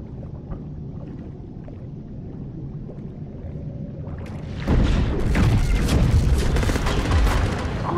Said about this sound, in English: He just blew up.